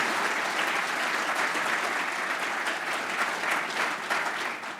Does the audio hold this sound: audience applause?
yes